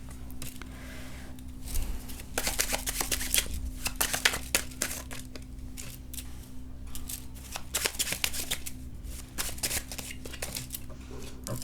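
Tarot cards shuffle in quick, papery bursts of riffling and flicking, close and fairly loud, coming in repeated clusters with short pauses between them. No voice is heard.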